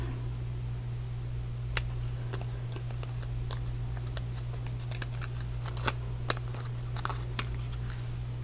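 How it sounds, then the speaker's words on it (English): Scissors make scattered, sharp snips through paper card, cutting out a heart shape. The quiet, irregular clicks sit over a constant low fan-like hum. "Just take your scissors and snip it off"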